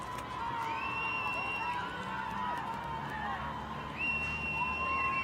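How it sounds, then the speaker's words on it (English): A Brazilian crowd cheers from the stands at a canoe sprint world championship in Halifax, Canada, a steady roar of voices with a louder surge near the end, heard under a commentator's voice. "the Brazilian crowd cheering on their athlete here"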